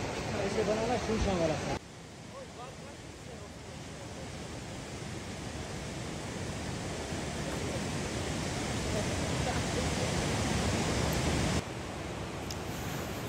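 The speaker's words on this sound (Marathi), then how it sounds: "आपण आलो आहोत आता ड्रुंग वॉटरफॉल" The continuous broadband roar of Drung Waterfall fills the whole stretch, steady and fairly loud, with a brief change in level near the start and again near the end.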